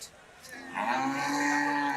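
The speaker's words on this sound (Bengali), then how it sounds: "প্রচুর পরিমাণে গরু আছে" Cattle low at a crowded Eid al-Adha cattle market in Chandpur; one moderately close moo swells up after a brief quiet start and holds steady to the end, with no talk.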